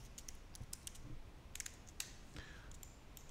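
Typing on a computer keyboard at a desk: quiet, irregular clicks in short bursts of keystrokes over a low background hum, with no voices.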